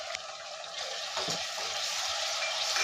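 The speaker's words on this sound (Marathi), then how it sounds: "ते मी चांगलं फ्राय करून घेते पेस्ट टाकत आहे हिरवी मिरची लसूण आलं धने" Green chili, garlic, ginger and coriander paste frying in hot oil, a steady close sizzle with occasional stirring scrapes.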